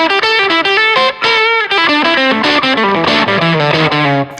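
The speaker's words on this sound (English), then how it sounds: "let's switch to the other fuzz without the octave" Electric guitar through a fuzz pedal without the octave effect: a quick run of saturated, buzzy notes and bends played loud and continuous for a few seconds, thick with distortion.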